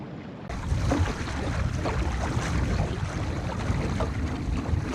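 A sailboat running dead downwind with the sail let all the way out: steady rushing wind and water noise, broadband and continuous, with gusty buffeting on the microphone and no voices.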